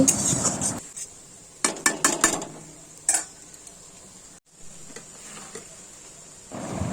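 Curry gets stirred in a pan once the lid comes off, heard as a few sharp metallic clinks and taps of a spoon against the pan between quieter stretches, close and without speech.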